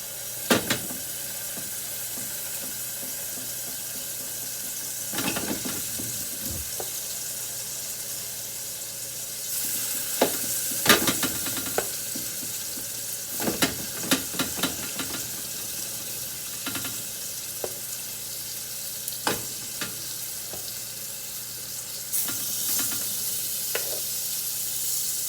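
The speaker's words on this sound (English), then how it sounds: "start searing off all this meat I got" Meat for bolognese searing in a hot pan, a steady sizzle throughout with scattered clatters and scrapes of stirring, loudest around the middle.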